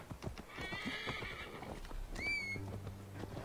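A horse in the Assassin's Creed Valhalla game trots with rapid clip-clop hooves, then lets out a loud rising whinny, followed by low musical tones from the game's score.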